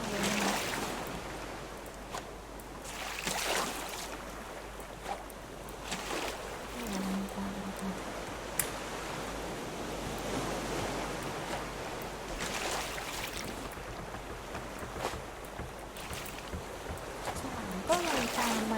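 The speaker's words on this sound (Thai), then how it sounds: "คลื่นแรงมากเลยนะ" Ocean waves wash and splash steadily around a raft in the video game Raft, a continuous watery roar with a sloshing surge throughout, while a person talks over it.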